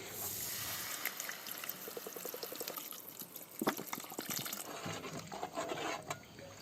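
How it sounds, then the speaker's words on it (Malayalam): Water poured into a pan of Kerala toddy-shop catfish-head curry, a quiet, close splashing pour with a few bubbling trickles and light clinks. "നമുക്ക് വെള്ളം ഒഴിക്കാം."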